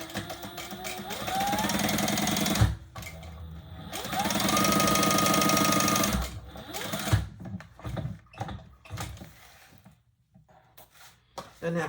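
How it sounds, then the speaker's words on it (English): Sewing machine stitching a basting seam along the top of a handbag, running in two steady bursts of rapid whirring stitches, then stopping for scattered handling clicks and clatter. "now I'm gonna just baste that top open, close, 1/8 of an inch"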